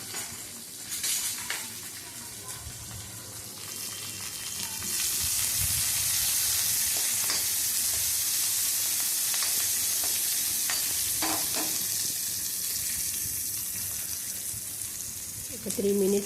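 Amaranth leaves (thotakura) fry in a pan with a steady, loud broadband sizzle that swells after a few seconds and holds, with occasional stirring scrapes and no talking.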